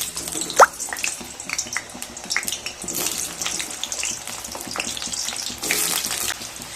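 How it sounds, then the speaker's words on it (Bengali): Two medium potatoes with a little salt fry in white oil in a wok, giving a steady crackling sizzle with scattered pops and light spatter; no voices. "আলুগুলোকে খুব ভালোভাবে ভেজে নেব"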